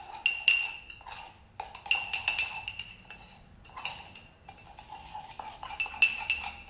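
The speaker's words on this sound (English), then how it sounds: "And we are going to give it a mix." A spoon clinks and scrapes quickly and repeatedly against a mug while mixing mug cake batter with added vanilla. The clattering is close and steady, with brief pauses between bursts of stirring, and no voices.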